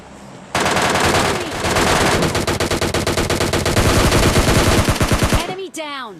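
Automatic weapon fire in the mobile game PUBG Mobile Lite: rapid, loud, close bursts of gunshots running almost continuously, ending in a few sharp reports and ricochet-like whines.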